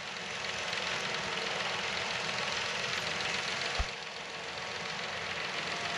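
A tractor engine drones steadily while pulling a large field sprayer: a faint, even rumble with a single soft thump partway through and no talking.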